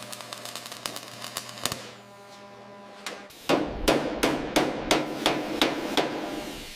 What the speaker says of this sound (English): Listen to the rhythm of the hammer.